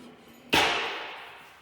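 One sharp metallic strike from a tucking tool on a metal panel being shrunk over a wood stump rings out close and loud, then decays slowly in a fading ring.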